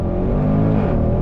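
A 2021 Range Rover Sport SVR accelerates hard from a slow roll in first gear, its engine note loud and close, rising steadily in pitch as the revs climb with no voices over it.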